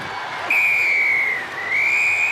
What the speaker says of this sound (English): As the whistle goes for half-time on court 1